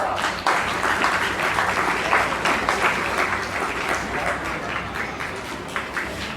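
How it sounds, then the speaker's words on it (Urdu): An audience claps steadily to welcome the school principal, Chaudhry Muhammad Yousuf, at a retirement ceremony. The dense applause holds for several seconds and fades slightly toward the end, with faint voices mixed in. "آپ کی پرزور تالیوں میں استقبال کیجیے رئیس مدرسہ جناب چودھری محمد یوسف صاحب"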